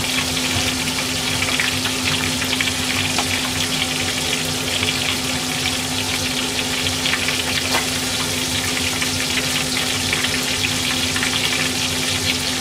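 Sandfish karaage and koshiabura tempura deep-fry in hot oil, a dense, continuous sizzle and crackle with a low steady hum underneath, close and even throughout.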